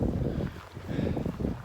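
Cold wind whips across a mountain trail, roaring and buffeting against the microphone in strong continuous gusts with no voices.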